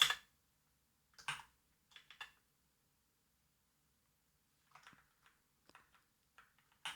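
Someone types on a computer keyboard, a few sparse clusters of soft key clicks separated by silent gaps, quiet and close.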